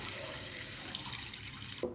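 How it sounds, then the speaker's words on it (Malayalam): Tamarind water pours into a pan in a steady, close stream for nearly two seconds, then cuts off abruptly. "നമുക്കിതിലേക്ക് പുളിവെള്ളം പിഴിഞ്ഞെടുത്ത് വെച്ചതും കൂടെ ഒഴിച്ചു കൊടുക്കാം"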